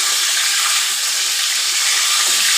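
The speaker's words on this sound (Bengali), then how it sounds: "এই যে লম্বা লম্বা বেগুন ভাজা হচ্ছে" Long eggplant slices deep-frying in hot oil, with a steady, dense sizzle and hiss that holds even and close throughout, no voices.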